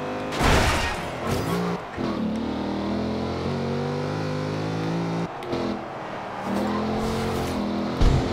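Race cars overtake in Forza Horizon 2, their engines revving loudly and close with rising and falling pitch as gears change. A sharp burst of noise marks each pass, with no talk over it.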